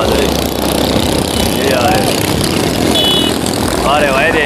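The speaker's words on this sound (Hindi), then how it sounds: "ये देखे सिलेंसर उतार उतार के मोटरसाइकिलों के फर्राटे दौड़ रहे" Motorcycles with their silencers removed roar past during the Haridwar kawad yatra. A loud, continuous engine blare fills the scene, with voices talking over it.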